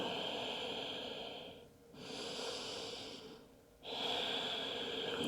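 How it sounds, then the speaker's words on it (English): Slow Ujjayi breaths drawn through the nose during a yoga flow, each a long, airy, throat-constricted rush; three breaths, close and clear, separated by two brief quiet gaps. "Long any breaths through the nose, making that sound from the back of your neck. This is Ujjayi breath."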